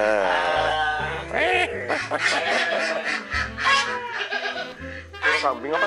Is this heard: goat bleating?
yes